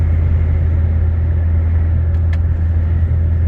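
Volvo FH 540 truck cruising on a highway, heard from inside the cab as a loud, steady low engine drone and road rumble with no pauses.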